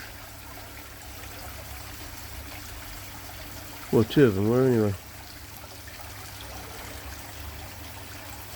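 A small garden pond waterfall with fish gives a faint, steady trickle and patter of falling water, heard outdoors and close by, with a man's brief remark breaking in partway through.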